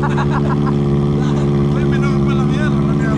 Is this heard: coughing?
no